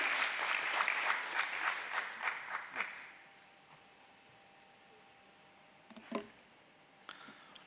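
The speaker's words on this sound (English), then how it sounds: "Let's welcome him with a big round of applause" Audience applause at a company listing ceremony rolls for about three seconds in rhythmic bursts, then fades to room quiet with a few small knocks afterward.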